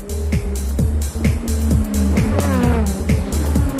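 JGTC race cars, among them the AU Supra, scream past one after another, with several rising and falling engine notes and gear-shift steps, loud and close, over a constant crowd and engine roar.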